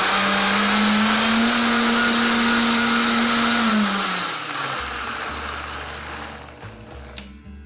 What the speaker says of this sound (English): that goes into a blender with a little bit of chicken stock